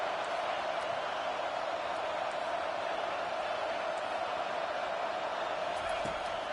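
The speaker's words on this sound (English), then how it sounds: "Listen to this crowd just shaking the girders of this place" Large stadium crowd roaring at a college football game, Arizona against Washington, a dense continuous wall of cheering noise heard from a distance with a commentator talking over it.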